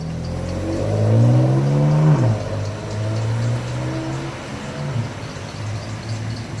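A BMW M3 four-door sedan accelerates away on a downtown street, its engine note climbing loudly through a gear, dropping at a shift, then pulling on at a steadier drone as it moves off.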